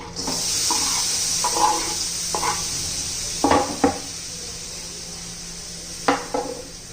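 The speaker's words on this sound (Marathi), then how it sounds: "छान असं फिरवून घ्यायचे, मस्त त्याचा पाक करायचा आहे आपल्याला." A spoon scraping and knocking in a hot pan of jaggery and lemon juice, a few scattered clinks and scrapes over a steady low hiss, near and moderately loud.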